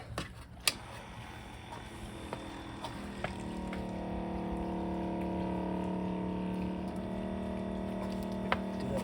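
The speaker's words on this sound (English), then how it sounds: "Okay, the water is running" A water pump running on camper sink plumbing, a few clicks and knocks, then a steady motor hum and whine with flowing water that settles into a continuous drone.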